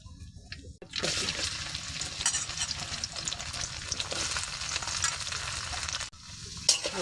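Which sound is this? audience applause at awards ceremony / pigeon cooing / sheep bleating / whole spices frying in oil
whole spices frying in oil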